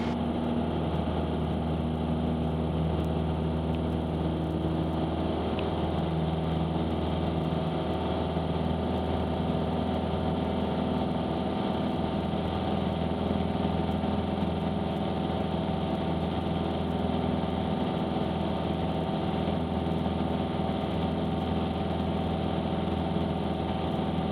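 Small single-engine aircraft at full power on the runway for takeoff, a steady loud propeller drone with a low engine rumble throughout, no voices over it.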